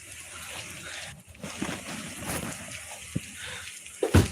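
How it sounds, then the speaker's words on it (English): Pouring rain outdoors makes a steady, broad wash of noise with a few soft knocks and a louder bump near the end, and no voices. "about to go in pouring rain, and either I'm going to regret it or I'm going to enjoy it"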